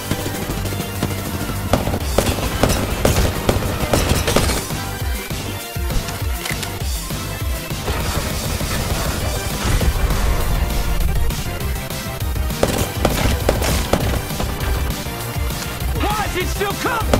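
Pistol gunfire in Apex Legends, a rapid stream of sharp shots and impacts layered over loud in-game action. It is dense and continuous for the whole stretch, with no talk on top.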